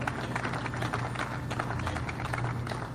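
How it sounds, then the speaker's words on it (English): Audience applause at a live faith gathering, a steady wash of clapping that fills the room at an even, fairly loud level with no voices on top. "Please, yes, applause."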